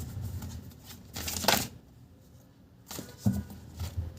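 A deck of cards is riffled and shuffled for a tarot-style reading, two quick papery bursts of shuffling separated by a brief pause, close up with no voices.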